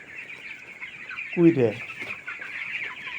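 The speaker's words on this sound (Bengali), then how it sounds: "এই ব্রয়লার মুরগি এত" Broiler chickens in a farm shed cluck and chatter, one bird's call rising close and loud for a moment over a steady background of flock noise, with someone talking nearby.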